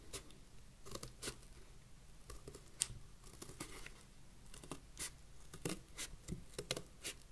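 Scissors cut through cardboard in a string of uneven snips and crinkly crunches, close by and fairly quiet, with brief pauses between the cuts and no voices.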